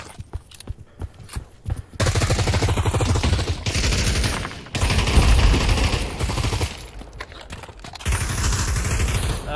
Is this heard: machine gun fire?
yes